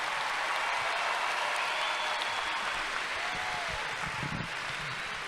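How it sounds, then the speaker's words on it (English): A large crowd at a high school commencement ceremony applauds the graduating class, a steady wash of distant clapping that holds evenly throughout. "Let's give them a huge round of applause."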